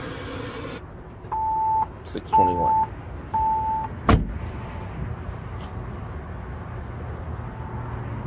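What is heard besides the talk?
beeping from Kicker Key amplifier in Jeep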